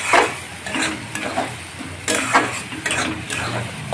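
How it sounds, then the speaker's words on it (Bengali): Fish curry masala is sautéed in oil for a Bengali fish curry, a loud close sizzle under repeated scraping strokes of a spatula against the pan, with no voices. "এবার ভালো করে কষবো।"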